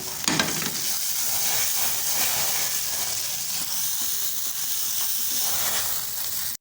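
Tomatoes tossed into taro (arbi) masala frying in a pan, a continuous hissing sizzle with stirring scrapes that fades briefly at the end, no voices.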